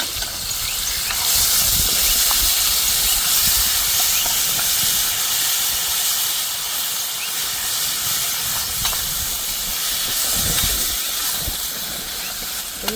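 Green chutney of garlic, fresh coriander, green chili and green garlic sizzles and fries in a pan with gravy, a steady loud hissing and spitting that runs continuously throughout.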